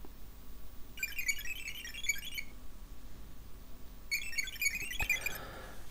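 An ESP32C3 board's small buzzer sounds two short bursts of rapid high-pitched bleeps, each about a second long, fairly faint against a quiet background, with a soft pop at the end of the second burst.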